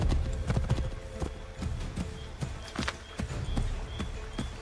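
Horse hooves trotting in Assassin's Creed 3, a steady clip-clop rhythm of hoofbeats at moderate volume with faint game ambience and occasional voices underneath.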